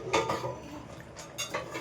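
Ragi kali batter stirred in a pot, heard as several quick scraping clinks of a spoon against the metal, close and moderately quiet, in short bursts with pauses between.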